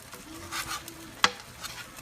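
Mackerel fries over high heat as curd is stirred into the pan, giving a soft sizzle under light stirring strokes and one sharp utensil knock partway through.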